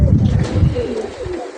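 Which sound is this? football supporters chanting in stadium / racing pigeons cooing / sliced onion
racing pigeons cooing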